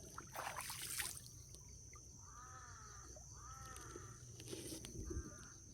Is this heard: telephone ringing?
no